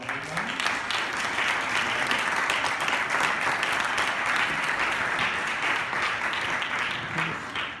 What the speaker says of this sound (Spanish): Yo les voy a pedir un aplauso para Alfredo,